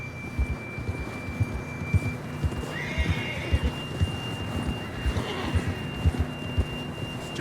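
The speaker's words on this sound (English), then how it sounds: "John was riding that horse when we left Blackwater." A horse in the Red Dead Redemption video game whinnies over a steady clip-clop of hooves, with the game's ambient hum beneath it and no speech.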